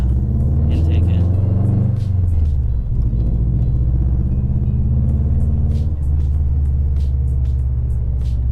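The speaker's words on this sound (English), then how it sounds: "the idle's a little bit rough, but not as rough as before, since I got the intake in" A 2004 Subaru Impreza WRX fitted with a PERRIN short-ram intake idles with a steady, slightly rough low rumble that continues throughout, while a person talks over it.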